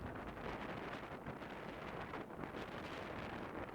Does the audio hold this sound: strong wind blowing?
yes